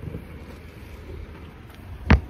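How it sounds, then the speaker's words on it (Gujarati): Strong, cold wind buffets the microphone outdoors, making a low, rough rumble that swells into a brief, loud gust at the end. "પવન બહુ જ છે"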